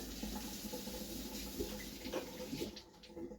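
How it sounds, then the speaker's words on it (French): An appliance part, a blender-style blade, is rinsed under a running tap to clear limescale. The water rushes steadily and closely, with small splashes and changes as the part moves, and no talking is heard. "Bah, je vais le rincer un coup."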